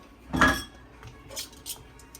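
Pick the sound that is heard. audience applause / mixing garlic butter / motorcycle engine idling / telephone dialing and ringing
mixing garlic butter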